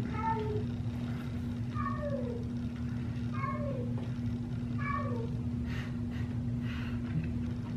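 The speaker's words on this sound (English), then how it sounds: "The cat is making weird noises." A cat makes odd, repeated chirping meows, several short descending cries in small bursts, heard indoors over a steady low electrical hum.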